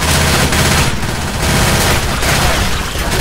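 Dense, continuous gunfire in the Left 4 Dead video game fills the whole moment, loud rapid overlapping shots and booms with no break.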